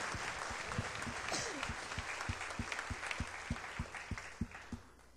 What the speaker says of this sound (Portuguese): Glória a Deus, bate palmas mesmo.